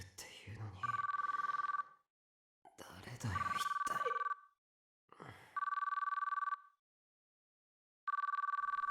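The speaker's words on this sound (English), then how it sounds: "But the phone didn't stop ringing no matter how long I waited." A telephone rings in the video game Chaos;Child, sounding as four steady electronic ring tones separated by short pauses. Brief rustling game sounds come before the first two rings.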